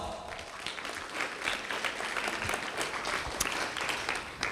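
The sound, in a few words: audience applause at a ceremony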